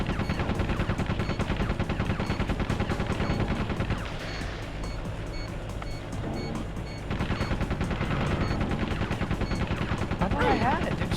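Rapid bursts of gunfire crackle in the video game Rogue Ops, dense and close, with a short lull partway through before the shooting picks up again.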